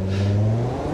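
In the BeamNG.drive game, the engine of a Soliad Lansdale tuner car revs in a steady, close, loud hum that holds briefly.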